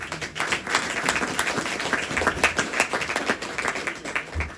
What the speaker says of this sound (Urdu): میں چاہتا ہوں بہو بیٹیوں کے لیے تالیاں بجائی جائیں۔